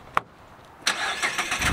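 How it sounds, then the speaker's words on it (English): A short click, then a Mazda Miata's car engine cranks and catches, settling into a running idle with slight revs. "Let me bring the car in."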